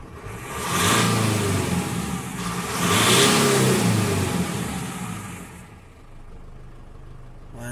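A Mitsubishi L200 with a faulty boost sensor hose revs hard twice, each surge climbing and falling away before the engine settles back to a low, steady idle.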